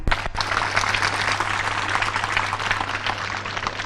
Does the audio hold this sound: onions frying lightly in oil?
no